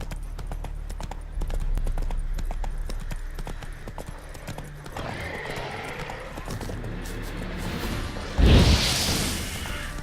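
Galloping horse hooves clip-clop steadily in The Witcher 3, a quick rhythmic pounding that runs for several seconds, then a sharp whooshing burst near the end, with a low hum underneath.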